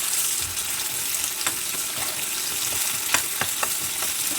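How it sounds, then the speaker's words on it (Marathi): Tomato, onion and potato slices frying in hot oil in a pan, a steady close sizzle throughout with a few faint scraping stirs and no talking. "टमॅटो आहे आणि चांगलं भाजायचं आहे तेलामध्ये"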